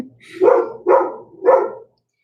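A dog barks three times in a steady rhythm, close and loud, then falls silent.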